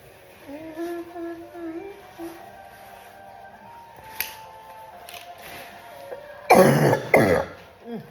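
A short burst of two harsh coughs near the end, close and loud, after quieter tones and faint background sounds.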